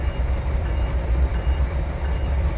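A locomotive engine moves in the Trainz 2019 railroad simulator, giving a steady low diesel rumble with rolling rail noise, constant and fairly loud with no voices.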